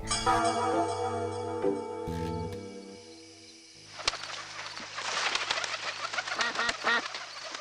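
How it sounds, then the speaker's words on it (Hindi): A flock of birds in a cartoon flies away at midday, sustained musical tones giving way to a busy burst of chirps, coos and flapping that carries on to the end. "इतनी दोपहर को ये सारी चिड़िया इस तरह उड़ क्यों गई?"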